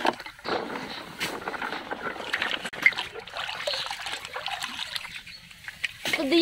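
Tap water runs and splashes continuously as a clay diya lamp is dropped into water under the faucet, a steady close trickle and splatter of moderate loudness throughout.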